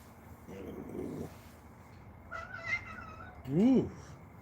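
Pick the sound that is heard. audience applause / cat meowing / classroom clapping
cat meowing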